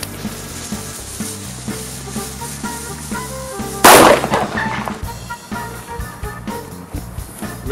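A single loud, sharp bang from a red Korsar firecracker with a crackling burst stands out midway over a busy, continuous background, then fades.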